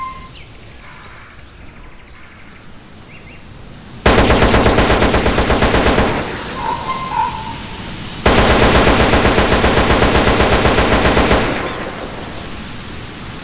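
Rapid automatic rifle fire from a modded weapon in GTA San Andreas, two loud sustained bursts of about three to four seconds each, separated by a quieter gap, with a faint background ambience.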